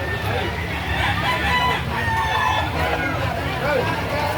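Chickens and roosters cluck and crow at an indoor poultry market on a rainy day, a dense steady clamour of birds close by with people chattering among them.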